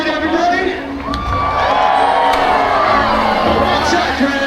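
An outdoor audience at a SeaWorld San Diego seal show cheers and whoops loudly and continuously, with children shouting in the crowd and a presenter's voice mixed in.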